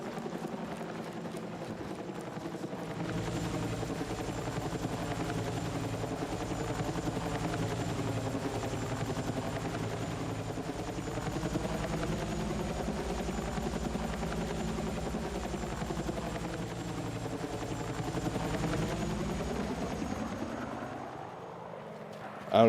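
Helicopter in Battlefield 6, a steady whirring rotor drone with a droning engine tone that holds loud and continuous throughout, its pitch wavering slightly as it moves.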